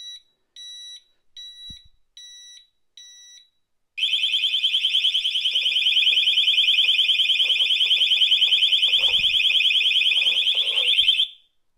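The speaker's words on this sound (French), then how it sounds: "Et la sirène 120 décibels qui vient de me détruire les oreilles" A Cranns SRA-approved motorcycle disc lock alarm gives a few short warning beeps, then its 120-decibel siren blares in a loud, steady, piercing tone for about seven seconds before cutting off.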